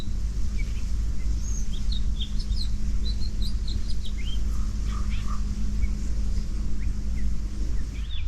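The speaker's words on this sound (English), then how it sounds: "I can hear that house finch singing away" A house finch sings in branches at a nature reserve, giving faint, quick chirping phrases over a steady low background hum, alone without talk.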